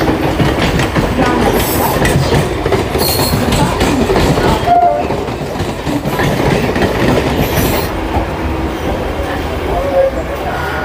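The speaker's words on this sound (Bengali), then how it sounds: "ট্রেন আমাদের ঢুকছে রানাঘাট জাংশনে" A local train pulls into Ranaghat Junction in Bengal with a loud, steady rumble and rattle of wheels on track that continues close by throughout, easing slightly midway.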